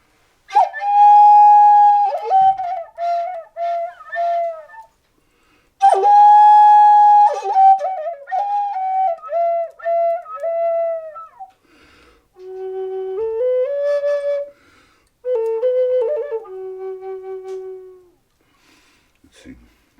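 A traditional Native American flute plays a simple, old song outdoors by a river, with breathy, wavering phrases that rise and fall, separated by short pauses. The flute is clear and close, and no one speaks.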